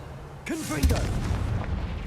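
A Confringo fire spell bursts in Hogwarts Legacy, a swelling whoosh and low rumbling blast that carries on for a couple of seconds after a brief spoken word, with game music underneath.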